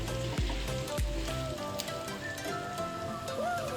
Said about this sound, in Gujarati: હવે છે ને આ મસાલા બટેટી જોડે આપણે મિક્સ કરી લઈએ.